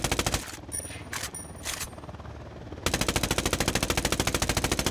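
Automatic gunfire from an observation post in Ghost Recon Wildlands rattles in loud, rapid bursts, dips into a calmer stretch with scattered reports, then resumes as a steady close-range stream.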